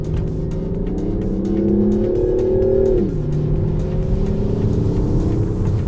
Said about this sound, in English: you can hear a bit of a roar from the engine